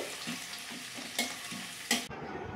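Nigella seeds fry in hot oil for a tempering, a close steady crackling sizzle with a few louder stirring scrapes before the sizzle drops off abruptly.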